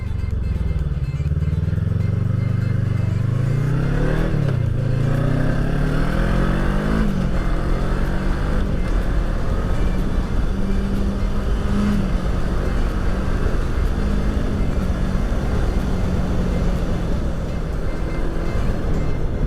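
Voge 500 R motorcycle engine heard from the rider's position while riding, a loud continuous drone that climbs in pitch through the gears under steady wind rush, with no talk.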